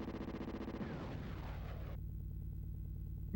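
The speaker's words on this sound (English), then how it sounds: "Definitely looking like the cannon shots are more effective here" Tank cannon fire in the SNES game Super Battletank 2, a booming retro-synthesized blast that decays into noisy rumble over looping game music, then cuts to the music alone.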